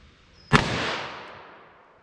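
A single sharp .357 Magnum gunshot firing a Barnes Vortex 140 grain round cracks once at close range, then a long echoing decay trails off over about a second and a half.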